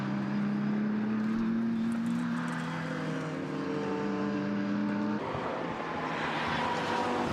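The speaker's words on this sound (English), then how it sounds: "the far more powerful mid-engine BMW goes through and ahead of the GT4 Ginetta" Race cars at Brands Hatch, a mid-engine BMW overtaking a GT4 Ginetta on a straight, with a steady engine drone rising in pitch, then shifting abruptly as one car passes, heard at a moderate distance.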